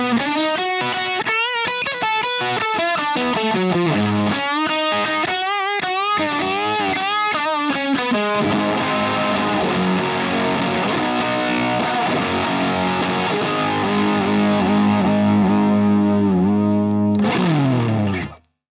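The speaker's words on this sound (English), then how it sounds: "the brand new Dallas Arbiter fuzz face with AC 128 germanium transistors" Electric guitar run through a Dallas Arbiter Fuzz Face pedal with AC128 germanium transistors, playing thick, saturated fuzz lines and sustained chords loud and continuous for most of the passage, then cutting off abruptly at the end.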